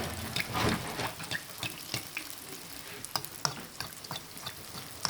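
Semolina doughnuts (khfaf) hit hot oil and fry with a soft, steady sizzle and bubbling, broken by scattered crackles and small clinks, quiet and close in a kitchen.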